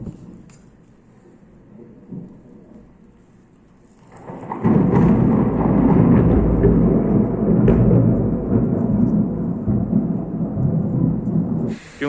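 Thunderstorm with heavy rain during the monsoon season: a low rumble and quiet patter for the first four seconds, then a loud, steady roar of downpour and rolling thunder that fills the rest, with no voices.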